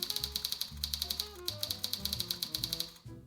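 Fast, even keyboard typing on a typing-practice app: a steady stream of close, crisp key clicks with a brief pause near the end, over soft sustained background tones.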